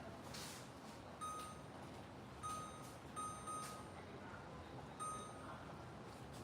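Short electronic beeps from a kitchen timer being set while cooking, four brief high tones spaced irregularly over a steady background hum.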